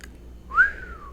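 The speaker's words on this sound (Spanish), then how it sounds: "Alexander silbó." A person gives one short whistle that rises and then falls, heard alone and close against a quiet background.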